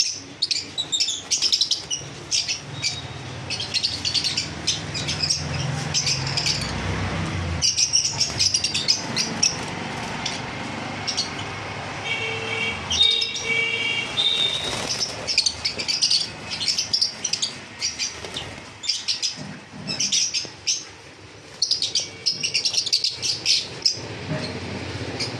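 Cockatiels, java sparrows and lovebirds kept together for sale chirp and tweet constantly, a busy overlapping chorus of sharp calls with occasional brief lulls and soft wing flutters, close by.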